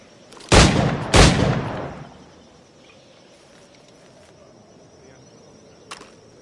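Two sharp, loud firearm gunshots crack about half a second apart, each trailing off in a ringing echo, followed by quiet ambience and one faint distant shot several seconds later.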